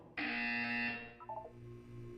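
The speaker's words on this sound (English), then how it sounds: "When you hear the buzzer, look down at the floor." A loud electronic buzzer from the video game Portal 2 sounds a single steady tone lasting most of a second, then cuts off and leaves faint lower beeps and a soft hum.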